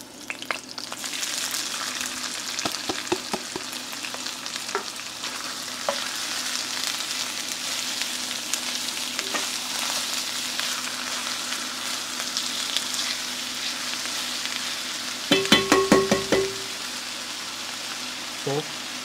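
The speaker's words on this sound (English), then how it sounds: "Now we're gonna add some onions." Onions fry in a Le Creuset tagine for lamb shank, giving a steady, close sizzle that runs the whole time, with a few clinks and a brief burst of utensil or pot noise near the end.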